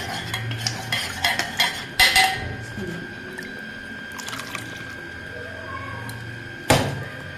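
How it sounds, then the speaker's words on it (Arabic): Spoon stirring a cornstarch mixture in a pot, light scraping and clinking taps in irregular bursts with a louder knock near the end, close, while someone talks. "هقلب كده بشويش"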